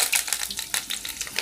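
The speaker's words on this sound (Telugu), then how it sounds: "ఆయిల్ కాగిన తర్వాత ఉల్లిగడ్డ, పొట్టి మిరపకాయ, కరివేపాకు, ఆవాల గింజ అవన్నీ కలిపి తర్వాత వేసుకోవాలి." Onion, short chillies, curry leaves and mustard seeds sizzle and crackle in hot oil, a steady close frying hiss with bright spitting pops throughout.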